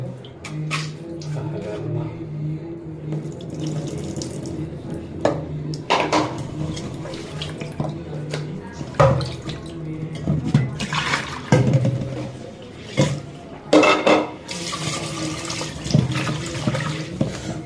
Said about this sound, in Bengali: দেখতে পাচ্ছেন মাছটা হচ্ছে পরিষ্কার হচ্ছে